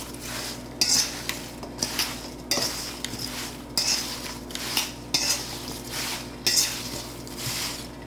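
A spoon scrapes and clinks in rhythmic strokes, about once a second, as apple pie filling with a crumble topping is stirred in a pan, with no voices.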